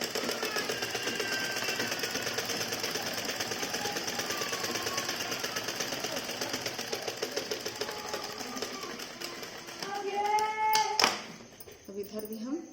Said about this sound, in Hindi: इस तरह से मैं डबल सिलाई इसको चला देती हूँ।